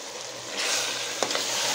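Vegetables and tomato masala are stirred in a pan while cooking veg biryani, giving a steady close sizzle with a couple of brief scraping stirs.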